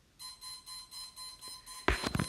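An electronic timer beeps in a quick, regular series of short pulses, fairly faint and close, before a burst of handling noise cuts it off.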